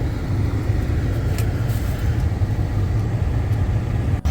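A vehicle rumbles along in four-wheel drive through snow, a close, steady low engine drone heard from inside, with no talking.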